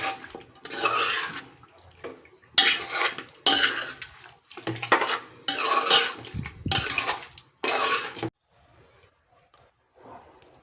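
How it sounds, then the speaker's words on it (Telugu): A spoon scrapes and clatters in a metal pot while spices are mixed for dum chicken biryani, in close, repeated stirring bursts that stop abruptly near the end, leaving faint kitchen rustle. "ఇప్పుడు ఇవన్నీ కూడా మసాలాలన్నీ కూడా మంచిగా మిక్స్ చేస్తున్నాను"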